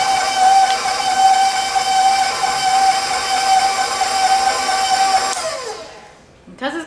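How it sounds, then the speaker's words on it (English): Electric stand mixer whirring steadily as it beats vegetable shortening for buttercream frosting, a loud continuous motor whine that winds down and stops near the end. "So I'm going to turn on my mixer"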